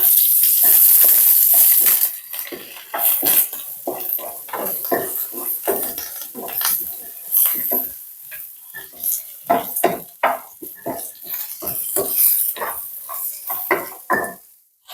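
Shallots and rice fry in a pan for Kerala pumpkin elissery, giving a steady sizzle and hiss with frequent scraping stirs of a utensil against the pan close by.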